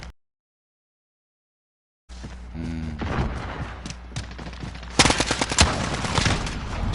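Gunfire in a PS4 video game: after about two seconds of silence, bursts of rapid shots with thuds build up, turning into a dense, loud fusillade in the last two seconds.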